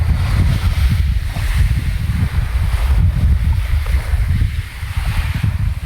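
Steady broadband wind rush and low rumble near the sea as a large ship passes, with a continuous droning, wave-like wash throughout and no talking.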